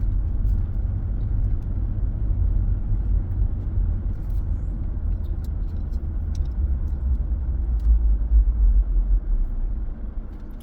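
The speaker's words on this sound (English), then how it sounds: "I've been hearing a weird noise on the truck" A truck drives at night in the Everglades, with a steady low engine and road rumble throughout and a suspected bit of gravel near the flywheel, loud and continuous with no talking.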